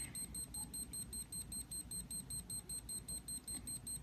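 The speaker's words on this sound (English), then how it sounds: "Wrong code again, it will alarm and lock itself for 30 seconds." An electronic lock sounds its alarm after a wrong code has been entered repeatedly, a fast, evenly pulsed series of high electronic beeps repeating steadily throughout with no talk.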